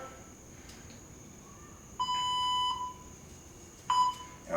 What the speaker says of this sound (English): I'm gonna go ahead and start our timer.